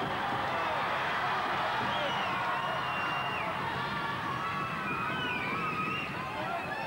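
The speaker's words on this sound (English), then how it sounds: "And the crowd are really enjoying this." Wrestling match crowd cheering and shouting steadily throughout, a dense roar of many voices with no single call standing out.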